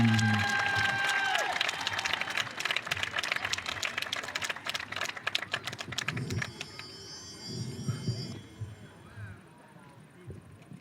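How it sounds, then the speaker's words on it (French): A show-jumping crowd applauds to welcome a rider: dense, steady clapping that rises and then thins out near the end, with faint crowd noise underneath. "il faut donner de la voix, des applaudissements, redoublez votre accueil"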